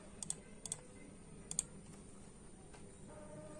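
Keys tapped on a computer keyboard while entering an Aadhaar number and captcha into a UP scholarship OTR registration form online; a few sparse, crisp clicks in small pairs over a quiet room hum, then nothing.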